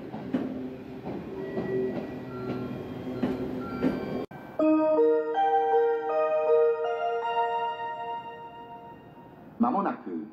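A four-car Chuo Line local train bound for Nagoya pulls in at platform 1 of Jinryo station, its rumble and clatter running for several seconds before a bright melodic station chime plays clearly over the platform.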